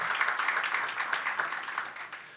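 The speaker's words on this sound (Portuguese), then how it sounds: "solicitamos que a partir desse momento deixemos os aplausos para o final das apresentações" Steady applause from a seated audience in a council chamber during a solemn session honoring a local history program, a dense wash of many hands clapping at moderate distance, fading slightly toward the end.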